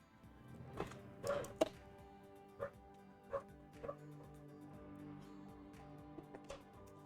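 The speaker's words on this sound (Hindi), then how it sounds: "ये कुत्ता भाई साहब भौंके जा रहे हैं।" A dog barking repeatedly in a phone repair workshop, a series of scattered single barks and yips at moderate distance, faint against a quiet room hum.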